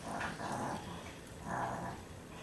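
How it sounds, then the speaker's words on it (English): A small puppy snorts and snuffles nearby in a home kitchen, two soft breathy bursts with a pause between them. "my little puppy's over there snorting"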